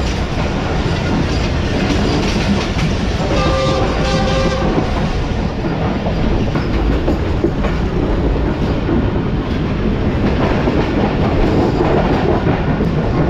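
Karakoram Express running near Mehran Bridge over a river, heard from on board as a loud, steady roar of wheels and carriages with rhythmic clatter and a brief tonal squeal, continuous with no voices.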